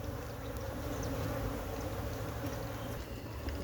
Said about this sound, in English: we will have the bees responding to the box